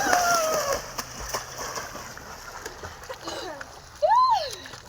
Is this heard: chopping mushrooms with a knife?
no